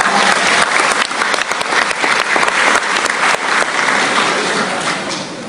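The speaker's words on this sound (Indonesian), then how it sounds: "Tepuk tangan dulu tuh Garuda." An audience at a religious talk claps in a loud, sustained burst of crowd applause, dense and continuous, tapering slightly near the end.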